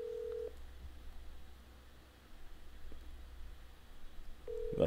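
A telephone being dialed: a steady tone beeps briefly at the start and returns at the end, faint under quiet room hiss, with no voices.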